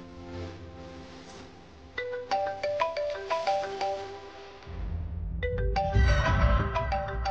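A phone ringtone plays a bright electronic melody of repeated plucked notes, loud and close, with a fuller section of chimes near the end.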